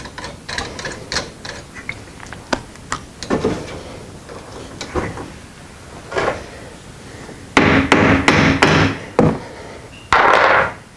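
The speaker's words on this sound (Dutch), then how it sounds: "dan pak je een hamer en dan sla je heel voorzichtig op de vlakke kant" A hammer gives a series of sharp metallic taps on the flat side of a heating pump's pipe coupling, a few light ones followed by a quick cluster of louder, ringing strikes close by.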